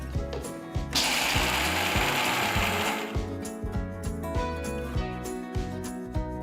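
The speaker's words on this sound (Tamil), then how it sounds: "நெக்ஸ்ட் நான் கொஞ்சமா வேர்க்கடலையை அரைக்க போறேன்." Mixer grinder grinding a small amount of peanuts, a loud close whir with rhythmic rattling clicks of the jar, rising into a harsher roar for a couple of seconds then settling back.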